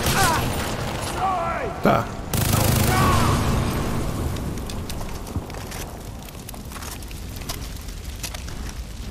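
Gunfire and explosions in the video game Far Cry 3: a heavy blast and rolling booms with scattered shots through the whole stretch, loud, while a player talks over the action.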